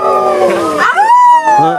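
A voice imitates a jackal's howl, a long wavering wail that rises in pitch and holds a high, sustained note, close and loud.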